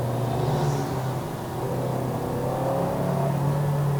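A 2023 Toyota Vios NGC102 with a CVT held in third gear accelerates on a Malaysian road, a steady mid-pitched engine whir and road hum rising gently under throttle with no talk.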